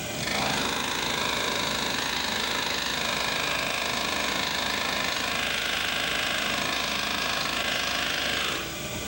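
A drive shaft on a demonstration rig spins from its input yoke through universal joints, giving a loud, steady mechanical whir that holds one constant pitch for the whole stretch.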